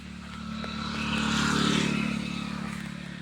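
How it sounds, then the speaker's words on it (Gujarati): A motorbike passes on a rough road, its engine hum swelling as it nears, peaking at mid-pass, then fading away, heard alone without talk. "તો બસ તો બાઇક નીકળી ગયું છે."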